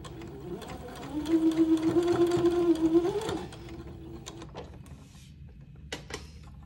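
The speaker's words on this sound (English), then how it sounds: "sew a seam in the lace panel. That will line up with the side seam of the dress." Sewing machine running a seam through a lace panel for lengthening a dress, a close steady mechanical whir for about two seconds, then stopping, followed by light handling clicks.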